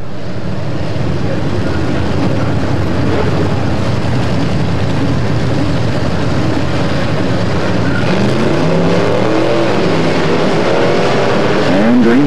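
Race cars roar continuously around the oval at Atomic Motor Speedway, a loud, dense wall of engine noise with rising and falling pitch as cars pass, and a voice faintly audible beneath the din.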